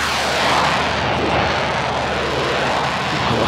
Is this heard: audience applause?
no